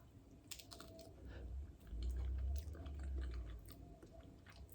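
Close, soft crunching and chewing over a few seconds, a quiet mouthful of crisp nachos topped with Impossible meat being bitten and chewed.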